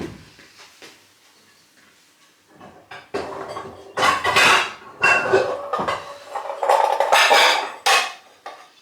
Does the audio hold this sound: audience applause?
no